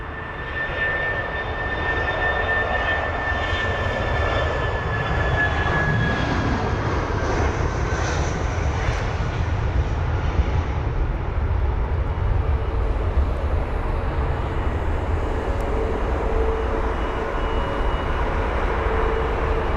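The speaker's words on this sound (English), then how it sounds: "BA732 off to Geneva, the Airbus A319 with the reg Golf Delta Bravo Charlie Delta. Flight number BA732 finally on the move now." A British Airways Airbus A319 jet taxis at close range with a steady engine rumble and a high whine that shifts in pitch as it moves, and nobody talks.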